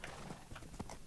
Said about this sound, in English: Woo! Horsey! Let's go for a ride, buddy. I just jumped on my horse.